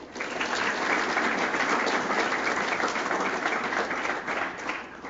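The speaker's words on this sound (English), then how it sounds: "Let's give them one more round of applause for a great job." An audience at a men's soccer all-conference awards reception gives a round of applause for the award recipients, with steady, dense clapping that swells in and holds evenly.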